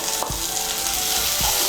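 Ginger, garlic and green chilli paste sizzles in hot oil with onions, a steady close frying hiss with a few soft knocks of a spoon against the pan.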